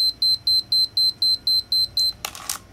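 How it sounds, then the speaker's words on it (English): A Minolta X-700 35mm film SLR gives a rapid run of about ten identical high-pitched slow-shutter warning beeps in even rhythm, followed by a brief mechanical shutter click and rattle. "Yep, and then it beeps."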